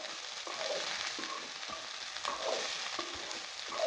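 Sliced okra (vendaikkai) sizzles and sautés in a pan for a Tamil okra fry, giving a steady close crackle with soft stirring scrapes and small pops throughout.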